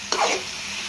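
Onion, coriander and mint frying in a hot pan, a brief stir with a sharp clatter followed by steady soft sizzling close by.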